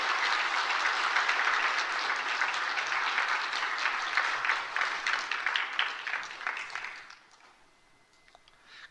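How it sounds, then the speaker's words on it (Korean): A church congregation claps warmly during a Sunday service celebration for new parents, a full, even round of applause that gradually thins and fades out toward the end. "오늘 이분들 큰 박수로 축하하도록 그렇습니다."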